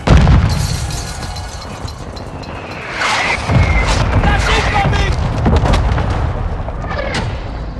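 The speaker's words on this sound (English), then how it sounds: "Friendly mortar strike on the way." Mortar strike explosions in a military shooter video game make heavy booms and blasts that overlap in a dense, loud barrage, with game voices and crackling debris mixed in.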